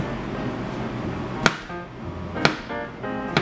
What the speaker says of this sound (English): we're going to chop these kind of fine